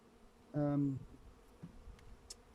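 A single honeybee at a beehive buzzes close by in one brief, sharp droning burst that bends slightly downward, followed by faint background hum and soft handling noises.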